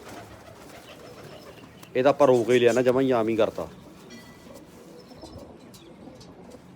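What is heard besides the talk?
pigeons cooing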